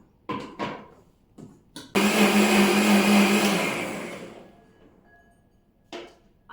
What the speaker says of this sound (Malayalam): ഇതിനെ നമുക്ക് ഇനി ഒന്ന് ബ്ലെൻഡ് ചെയ്തെടുക്കാം